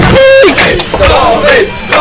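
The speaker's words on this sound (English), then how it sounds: "the crowd is shouting his name!" A fighting game tournament crowd roars and chants in unison, loud and close, with rising and falling shouts over a dense wash of voices.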